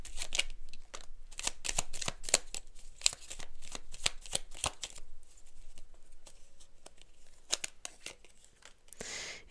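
Oracle cards get shuffled by hand nearby in a series of quick, crisp riffling bursts, irregular and fairly quiet, thinning out toward the end.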